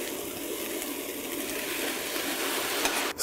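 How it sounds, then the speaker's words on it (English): Peanut coconut sauce poured into a hot pan of fried tofu, bell pepper and mushrooms, giving a steady close wet hiss and sizzle that runs evenly throughout, with a brief clatter at the very end. "And then we pour our sauce on top."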